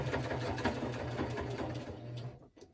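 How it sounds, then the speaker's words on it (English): A sewing machine runs steadily with a rapid mechanical stitching hum, stopping abruptly near the end, stitching a fabric journal cover. "on my sewing machine, it gives a nicer finish"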